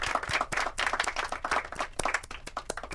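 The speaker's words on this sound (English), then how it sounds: "Let's clap for her." A burst of clapping in a video game, many hands applauding together in a steady patter lasting a few seconds.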